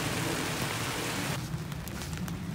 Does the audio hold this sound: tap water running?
no